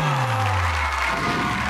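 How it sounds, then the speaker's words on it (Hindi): Crowd at a Hindi comic poetry gathering (hasya kavi sammelan) applauds and cheers to welcome poet Rakesh Tiwari onto the stage, a dense, steady wash of clapping that stays loud throughout the short stretch. "राकेश तिवारी का स्वागत है जोरदार तालियों के साथ"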